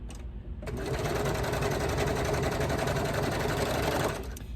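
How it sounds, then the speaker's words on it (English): A Brother Lock 1034D serger stitches down the short raw edges of folded baby bummies cuffs, its motor starting abruptly and running at a steady, loud, fast whirring hum for about three and a half seconds before stopping. "you fold it in half and serge down those short raw edges"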